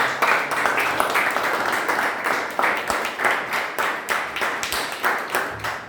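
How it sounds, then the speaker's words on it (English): A room of Toastmasters club members gives a round of applause at a meeting, with dense, steady clapping that fills the whole stretch at a moderate distance and no talk over it. "a huge round of applause"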